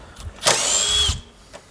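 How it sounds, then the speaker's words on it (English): A power drill fitted with a super long drill bit whirs in one close, steady burst of just under a second, with quiet handling noises before and after. "I'm still running with this super long drill bit."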